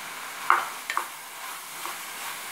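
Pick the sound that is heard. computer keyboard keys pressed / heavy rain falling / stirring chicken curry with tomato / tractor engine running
stirring chicken curry with tomato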